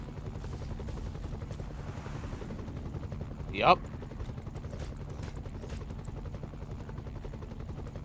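A helicopter in the Iron Man video game gives a steady rotor drone throughout, cut by a brief loud burst midway, with a short spoken word over it.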